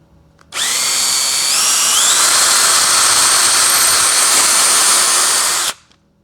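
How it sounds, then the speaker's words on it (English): A power drill whines steadily for about five seconds, its pitch rising slightly as it bores through wood, starting and stopping abruptly. "Now I just need to finish drilling that out separately."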